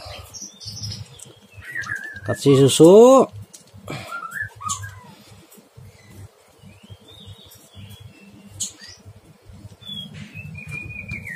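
Two small sunbirds chirp and trill in scattered bursts, one loud close call in the middle, while someone talks intermittently.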